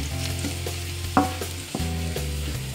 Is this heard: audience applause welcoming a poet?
no